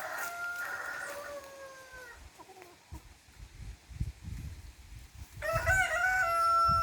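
Rescue chickens in a backyard aquaponics setup, a rooster crowing loudly and close at the start, softer clucking and scratching in the middle, then another strong crow at the end.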